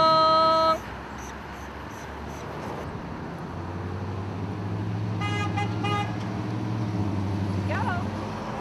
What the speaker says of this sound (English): I feel like I'm soliciting fake honks now